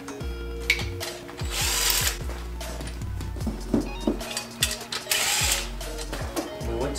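An electric power tool whirs in steady bursts during gasket repair on a 2009 Toyota Corolla 1.8 engine, close and fairly loud, with ratcheting mechanical clicks between runs and no talk.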